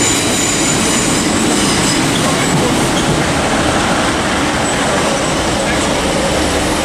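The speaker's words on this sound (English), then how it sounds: "arriving in now, in off Blackpool North, is a terminating Northern service, 156461." A Northern class 156 diesel unit, 156461, rolls into Manchester Piccadilly, a loud close rumble of wheels and engine with rail noise and faint squeal throughout, a voice partly under it.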